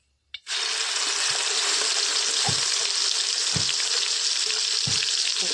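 A loud sudden sizzle erupts after a brief silence as roasted-spice gravy for paneer masala hits hot tempering oil, crackling steadily, frying hard with a few soft clinks underneath.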